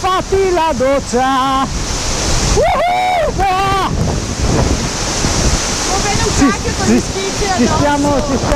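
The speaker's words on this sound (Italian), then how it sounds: "Siamo dentro la cascata, bellissimo." A waterfall roars with constant, loud rushing water close by, heard from inside the falls at Fontanone di Goriuda near Chiusaforte, Italy, while voices shout and talk over the torrent.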